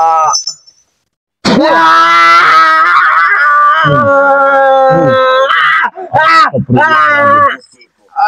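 A man wails and screams in long, loud, strained cries with a few short sharp yelps, standing alone after a brief pause, during a staged honey healing session.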